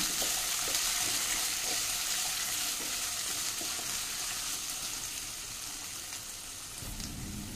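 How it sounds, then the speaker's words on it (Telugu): Mixed vegetables, beans, carrot, potato and cauliflower, sizzle loudly and continuously in a hot pan while being stirred, with a dense frying hiss and soft scraping throughout. "నేను నా దగ్గర ఉన్న వెజిటేబుల్స్ అన్నీ యాడ్ చేస్తున్నాను. ఇది మిక్స్ చేద్దాం."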